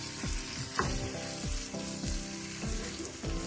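Prawns sizzling in a yogurt masala on low heat, a close crackling fry broken by rhythmic scraping strokes of a spoon stirring the pan every half second or so.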